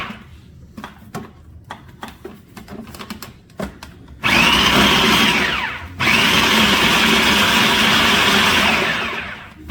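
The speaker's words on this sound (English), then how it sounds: "some mango salsa here. All right, I'm gonna blend that up." A blender whirs loudly, blending mango salsa for a tailgate party, in two long sustained bursts after a few seconds of clattering kitchen preparation, with a brief pause between the runs.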